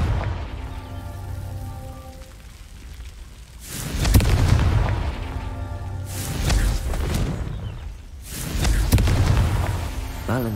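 Hogwarts Legacy's Confringo fire spell sets off three heavy booming explosions several seconds apart, each a loud rumbling burst that fades out before the next one hits.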